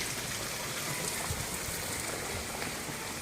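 Spring water flowing from underground out through a bamboo pipe outdoors in nature, a steady, dense splashing rush that continues evenly throughout, fairly close and alone.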